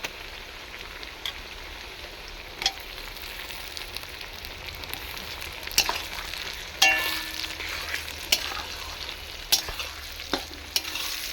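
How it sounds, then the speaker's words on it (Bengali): Tomatoes going into browned onions in a big kadai for a large batch of country chicken curry, giving a soft, steady sizzle with occasional scrapes and clinks of stirring, close but fairly quiet. "আমার যে পেঁয়াজটা এখন কষানো হয়ে গেছে, আমি টমেটোটা দিয়ে দিই।"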